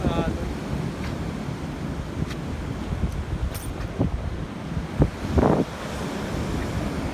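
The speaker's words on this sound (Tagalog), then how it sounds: "Lakas ng alon guys, pero maliligo pa din ako." Waves crash and rumble close by, with gusty wind buffeting the microphone and a brief splash near the end.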